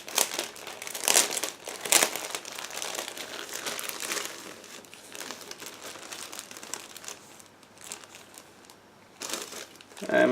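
Plastic bag holding 1/48 Bf 109G-6 model kit sprues crinkles near and loud in bursts, with sharper rustles at the start and quieter handling crackles in between.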